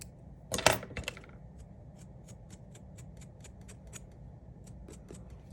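Small scissors snip quietly through felted wool in a series of light, evenly spaced clicks after a brief clatter, close and faint in a quiet room, trimming a needle-felted bird.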